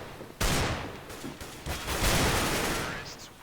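Video game gunfire, a loud close burst of rapid shots breaking in abruptly and rolling on as a dense sustained volley for about three seconds, with faint talk underneath.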